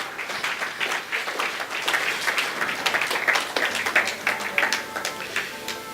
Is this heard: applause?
yes